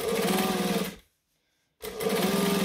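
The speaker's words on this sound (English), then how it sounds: "After you sit at your sewing machine forever, you'll start to pick up on little noise changes." A sewing machine stitches fabric in two loud, steady whirring runs, broken by about a second of silence when the stitching stops and then starts again.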